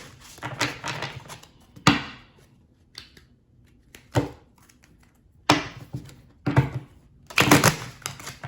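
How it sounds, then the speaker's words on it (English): Tarot cards are shuffled in several separate bursts of crisp riffling and slapping, each one followed by a short pause, all close up with no voices. "let's go ahead and get these cards shuffled so we can get right into your reading"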